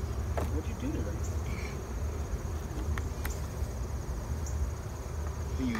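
Honeybees from an opened top bar nuc hive fill the air with a steady, dense buzz, agitated and close, and a few faint voices can be heard under the hum.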